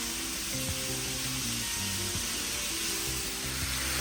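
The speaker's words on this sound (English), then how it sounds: "we're gonna saute these veggies for about 1 minute" Vegetables, onions among them, sautéing in a pan for a creamy chicken pasta, a steady soft sizzle and hiss with faint clinks of a utensil, no talking.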